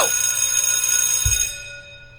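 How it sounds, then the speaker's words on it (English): A ringing bell sound effect, a bright metallic tone that strikes sharply then sustains with shimmering overtones before fading out, alone and fairly loud. "This is a bell."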